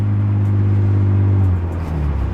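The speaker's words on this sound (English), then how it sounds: "So this is the full Bimmerworld race exhaust, and we can use it for the turbo setup too" A BMW E36 M3 with a full Bimmerworld race exhaust idles with a deep, throaty drone, then the engine note drops and wavers briefly, close and loud without talk.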